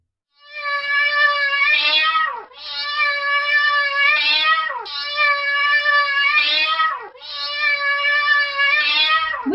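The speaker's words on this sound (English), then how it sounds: "Right, it's a cat." Four long drawn-out domestic cat meows, each clear, loud and close, evenly spaced with short gaps between, heard alone.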